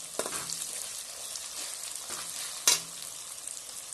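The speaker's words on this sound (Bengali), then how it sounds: "আমি এতে তেজপাতা দিয়ে দিচ্ছি।" Bay leaves sizzling in hot oil for chicken biryani: a soft steady frying crackle with a few light stirring taps and one sharper clink, close and alone without speech.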